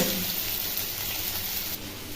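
Ghugni frying in rendered mutton fat in a wok gives a steady, dense sizzle that holds at an even loudness throughout, with no talking.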